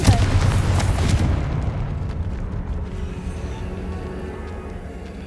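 Confringo blasting spell explosion in Hogwarts Legacy, a loud booming burst at the start that rolls off into a long rumbling decay and crackle over several seconds.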